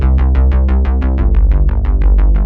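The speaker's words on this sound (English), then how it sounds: "it was a running bass line using two presets in the retro synth" Running synth bass line from Logic's Retro Synth, layering a classic analog bass preset with a PWM bass preset: a steady train of about sixteen evenly spaced plucky notes with bright attacks and deep low end, loud and up front with no voices.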